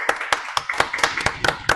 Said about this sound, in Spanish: Démosle un aplauso a nuestra invitada del día de hoy